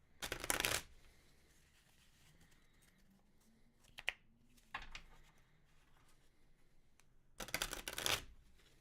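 Two brisk bursts of tarot cards being shuffled, one at the start and one near the end, with a quiet pause and a few small taps between.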